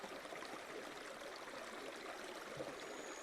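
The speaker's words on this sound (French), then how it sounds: "avec des bruits de l'eau qui coule" A river flowing steadily beside a forest, heard as a soft, even wash of moving water that continues unchanged throughout, with no voices.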